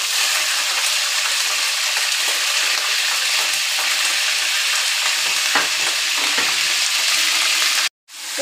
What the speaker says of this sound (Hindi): तो ब्राउन करेंगे पहले चिकन को